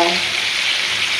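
Pangas catfish coated in turmeric, chili powder, chili paste and cumin sizzles in hot oil, a loud, steady, close frying hiss with no voices.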